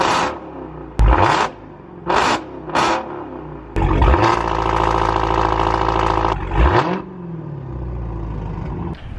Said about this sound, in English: let's go ahead and do a cold start on the Hellcat